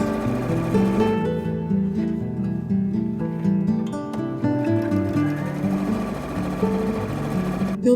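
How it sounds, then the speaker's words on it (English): A sewing machine top-stitches elastic along the waistband edge of a tiered skirt, running in a loud, steady mechanical whir with brief pauses and changes in speed. "Then top stitch 1 or 2 times, ensuring that the elastic is against the top edge of the pocket as you're sewing."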